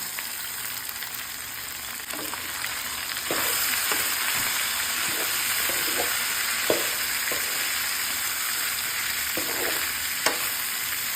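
Carrot and celery, then celery leaves, fry in a pan for pancit canton, giving a steady, close sizzle throughout with a few soft stirring knocks and scrapes.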